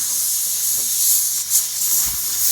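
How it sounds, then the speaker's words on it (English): Compressed air from an air compressor hisses steadily and loudly, close by, while a tire with a nail hole is inflated. "Luckily I got a compressor here"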